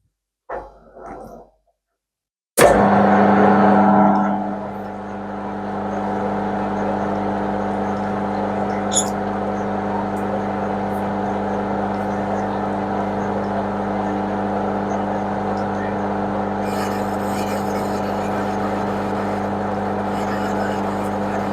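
A machine tool cutting a steam valve chest, first passes fed by hand: a steady loud mechanical drone with a strong hum sets in after a short pause and runs continuously, with faint talk at the very start.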